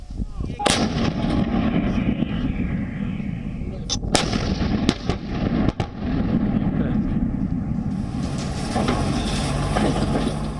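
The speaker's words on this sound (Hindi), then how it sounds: "एक बार तोपों की तैनाती हो गई तो कमांड पोस्ट के आदेश पर फायर शुरू हो जाते हैं।" Indian Army artillery guns fire during a desert exercise in the Thar, with several sharp, booming blasts at uneven intervals over a constant rumble of machinery, loud and fairly close, with a faint voice in the background.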